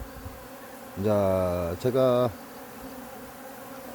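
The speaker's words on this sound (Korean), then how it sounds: "말벌들도 덩달아 이쪽으로 지금 모이고 있는 거고요" Hornets and honeybees buzz around an outdoor sugar-syrup bee feeder at an apiary, a loud close droning whine swelling for about a second, briefly breaking, then returning before fading; someone speaks faintly at the start.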